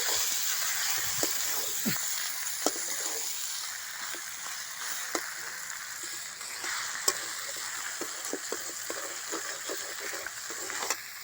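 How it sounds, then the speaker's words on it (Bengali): Marinated chicken being sautéed with spices in a pan, a constant moderate sizzle and hiss with scattered sharp stirring taps from a spoon, close and continuous. "এইভাবে মাংসটা আমি 10-15 মিনিট ধরে কষে নেব।"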